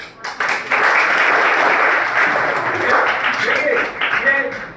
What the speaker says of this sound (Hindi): पहले तो एक बार ताली बजा दीजिएगा नामदेव सर के लिए, शर्मा सर के लिए और कुशला सर के लिए